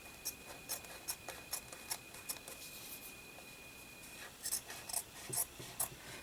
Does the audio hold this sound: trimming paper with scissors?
yes